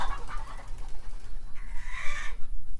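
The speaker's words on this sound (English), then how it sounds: "These birds are going crazy." Chickens squawk and cluck excitedly in a homestead yard, a burst of close, agitated calls with a louder stretch of squawking toward the end, no speech over it.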